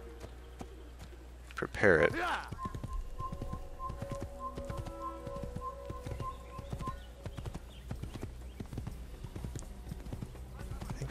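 Horse hooves clip-clop at a steady walking pace in Assassin's Creed, under someone talking near the mic, with a sharp game sound near the start and faint bird calls.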